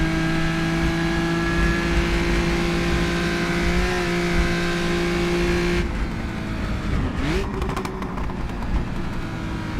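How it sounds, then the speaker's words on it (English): A historic road racing car at the Dundrod circuit roars loudly and steadily from onboard, engine note holding high then dropping and shifting as it engine-brakes in second gear, with a burst of broadband mechanical noise near the end. "Is that engine braking, second gear."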